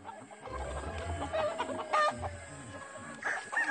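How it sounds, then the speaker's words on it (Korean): Free-range chickens on a forest farm cluck and murmur close by, with a few brief higher calls rising over the flock's low, scattered chatter. "닭들이 저까지 들어가 있죠?"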